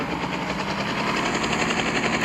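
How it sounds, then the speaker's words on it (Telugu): A black helicopter arrives in a video game through a cheat code, its rotor making a steady, rapid thumping drone over a constant engine roar, heard alone and fairly loud. "అండ్ వచ్చేసింది మన బ్లాక్ హెలికాప్టర్."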